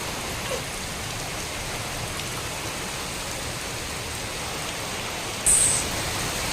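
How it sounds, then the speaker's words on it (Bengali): Heavy rain pours steadily in Jhargram, India, driven by strong wind that bends the trees, a dense even hiss throughout with a brief louder gust near the end. "বৃষ্টি তো হচ্ছে সাথে প্রচণ্ড হাওয়া বাতাস"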